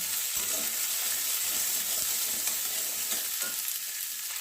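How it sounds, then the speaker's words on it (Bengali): Potatoes fry over medium heat in hot oil with a continuous, crackling sizzle, close and steady, with occasional stirring and no voices. "আলুটাকে আমরা মিডিয়াম লোহিতে চার পাঁচ মিনিট হালকা ভাজা করে নেব"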